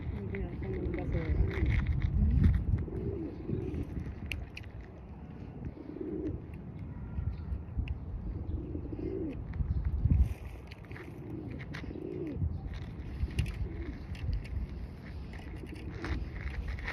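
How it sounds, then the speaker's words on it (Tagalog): A crowd of pigeons coos repeatedly nearby, soft low warbling calls recurring every few seconds under ongoing background chatter and people talking. "Daming kalapati, guys."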